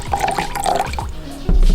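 Rice vinegar, mirin and water for sushi rice seasoning pour and trickle into a container at close range, a steady liquid gurgle with a heavier splash near the end.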